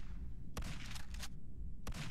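Two sharp gunshots from first-person shooting in the retro-styled FPS game Zortch, each a brief broadband crack spaced over a second apart, heard over a steady low background hum.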